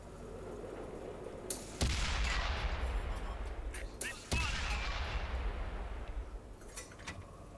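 Tank guns in the World of Tanks video game fire two heavy booming shots a few seconds apart, each followed by a long rumbling decay, with a quieter background between blasts.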